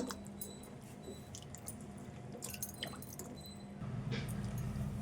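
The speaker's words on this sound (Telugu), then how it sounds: "ప్రతి ఒక్కటి కూడా ఇట్లా కడుక్కోవాలి" Goat legs are being scrubbed clean in water, making close, wet squelching, dripping and sloshing sounds in an uneven rhythm for several seconds. The sound grows slightly fuller and louder toward the end, with no talking.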